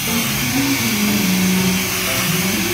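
Steady, loud hair dryer blowing on freshly colored hair in a salon, a continuous whooshing roar with a whining motor tone throughout, no talking.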